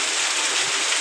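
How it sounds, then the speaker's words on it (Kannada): Heavy rain pours down in a dense, steady hiss with no breaks through the brief moment. "ಮಳೆ ನೋಡಿ ಎಷ್ಟು ಜೋರಾಗಿ ಬರ್ತಾ ಇದೆ."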